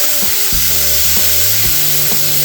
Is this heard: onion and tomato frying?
yes